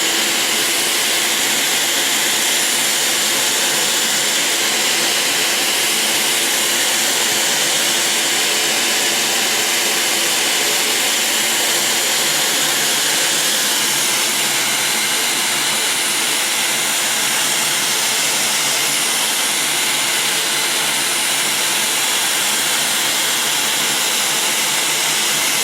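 Edger machine sharpening Phantom MK figure skate blades, a steady high whirring grind of wheel on steel that runs unbroken and fairly loud throughout, with no voices.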